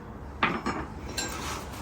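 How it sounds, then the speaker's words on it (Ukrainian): Utensils scrape and clink against a bowl in a few quick strokes, quiet and close, mixing cheese, egg and corn starch. "Все швиденько перемішуємо."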